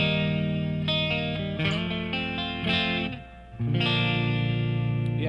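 Electric guitar played through the custom channel of a Fender '68 Custom Deluxe Reverb amp, a Bassman-based circuit, ringing out sustained chords with reverb and mild breakup, a brief dip near the end before a final strummed chord rings on.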